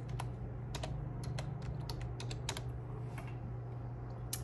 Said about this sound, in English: I'm just going to type in the name of another business